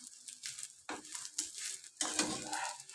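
Oil spattering into a hot pan while roti is cooked, sharp sizzling bursts arrive in waves with quick clatters from the pan, close and fairly loud, with no speech.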